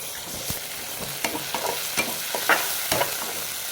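Tomatoes being added to sizzling ginger garlic paste while cooking crab pepper masala, with a steady frying hiss and scattered stirring scrapes and small pops close by, no talking.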